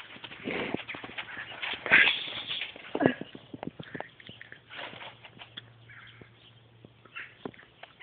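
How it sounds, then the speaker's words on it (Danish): Several horses shift and step nearby, with irregular hoof thuds and clip-clops, a few sharper knocks, and soft rustling between them. "Du rører ved en hest."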